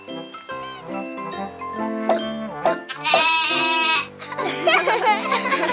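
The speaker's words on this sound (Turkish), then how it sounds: "Çok tatlı bir keçi." A cartoon goat bleats several times over light background music in a children's animated series, with jingly tinkling tones and a voice briefly heard.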